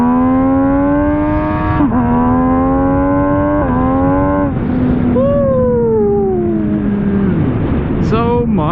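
An MV Agusta Brutale 800RR motorcycle with a Fresco exhaust revs hard and close, climbing through several gear shifts with brief drops between pulls, then easing off and blipping the throttle again.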